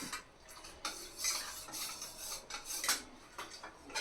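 A spoon scrapes and stirs a mixture in a pot for a fruit salad dessert, producing soft, irregular rasping strokes with a few brighter metallic scrapes, close and fairly quiet, with no voices.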